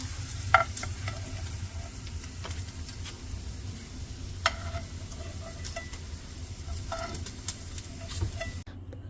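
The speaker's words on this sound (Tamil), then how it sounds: "எல்லா சைடும் இந்த மாதிரி திருப்பி விட்டு ஃப்ரை பண்ணிக்கணும்" Paneer tikka rolls fry in a pan, turned on every side, giving a soft continuous sizzle with scattered light ticks and clinks of stirring, no talking.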